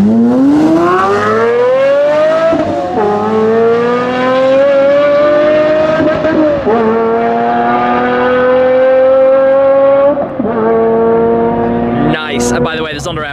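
A Pagani Zonda F and other hypercars launch in a drag race, their engines screaming loud and close, rising in pitch through several gear changes.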